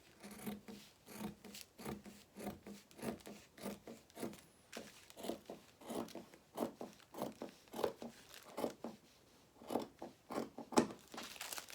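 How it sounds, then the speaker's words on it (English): Scissors slice through toile fabric in long, repeated strokes, each cut a crisp rasping snip close to the microphone, recurring in an uneven rhythm with no talk. "normally I try and do nice long smooth motions with my scissors"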